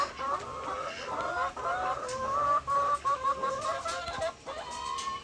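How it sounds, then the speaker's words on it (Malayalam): Several chickens cluck and squawk close by in a busy, overlapping chorus, with a rooster's calls standing out among the hens. "ഇത് വലിയ കോഴി, പൂവൻ കോഴി."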